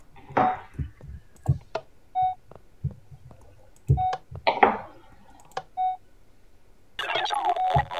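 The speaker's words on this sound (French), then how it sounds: "T'entends-tu le bip?" Repeated short electronic beeps inside the Minecraft game, spaced irregularly among clicks and thumps, with a brighter burst of noise near the end; no voices.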